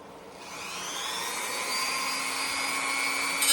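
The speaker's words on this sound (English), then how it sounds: "I can cut up to on my Dremel tool" A Dremel rotary tool cuts a 1/24 scale slot car body, a close, loud high-pitched whine that rises in pitch as it spins up and then holds steady.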